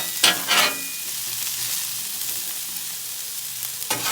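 Steady hiss of food sizzling on a 22-inch Blackstone griddle, close and continuous, with a few brief scraping stirs near the start and again near the end.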